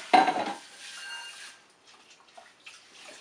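Waste liquid poured out of a kitchen pan during a caffeine extraction: a sharp clatter of the pan, then a half-second splash of liquid, followed by faint drips and small clinks, close by with no speech.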